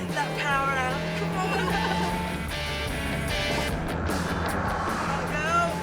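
Mazda MX-5 accelerating hard on a test track, its engine note rising and pulling strongly, with a voice talking over the car and another voice chiming in near the end.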